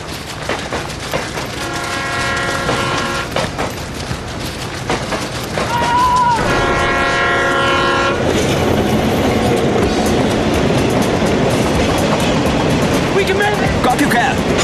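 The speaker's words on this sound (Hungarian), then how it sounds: "Lehetetlen megbecsülni a közeledő vonat sebességét." A train approaches through a tunnel with a loud, close rumble of wheels and several long horn blasts, and the roar grows denser and heavier as it nears.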